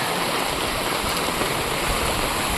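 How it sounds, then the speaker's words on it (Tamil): Floodwater rushes through a village after heavy rain, a steady loud broadband roar of flowing water with no pauses, close and continuous. "பாருங்க எந்த அளவுக்கு தண்ணி வருதுன்னு பார்த்தீங்களா"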